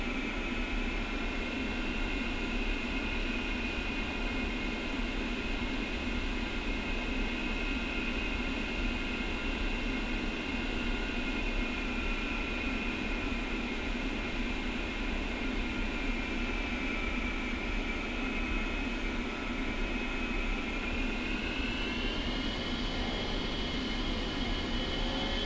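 An A-10C jet's engines whine steadily during a slow taxi in Digital Combat Simulator, a constant close drone with tonal layers that shift in pitch near the end, with no talking.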